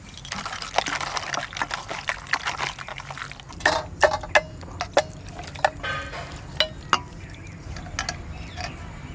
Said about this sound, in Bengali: বেশি জল দেয়া যাবে না অল্প জল দিয়ে টিফিনটা বসা দিচ্ছি